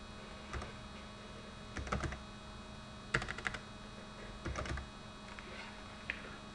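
Fingers type a new access card number on a computer keyboard in an access-control system, producing short clusters of quiet, close key clicks separated by pauses over a low electrical hum.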